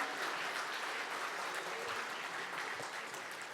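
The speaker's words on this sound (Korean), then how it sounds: "여러분 다시 한번 뜨거운 박수 보내주시기 바랍니다" A crowd claps steadily at a medical center's opening ceremony, a dense wash of applause that carries on evenly throughout.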